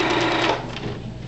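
A sewing machine stitches quilt binding in matching thread at a normal 2.5 stitch length, a loud close whirring run that slows and fades out within about a second.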